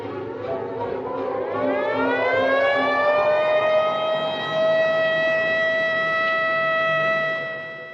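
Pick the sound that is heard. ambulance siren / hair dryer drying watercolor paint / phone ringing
ambulance siren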